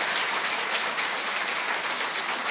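An audience at a Czech television show applauds in a steady, dense wash of clapping that holds at an even level from start to finish without pause.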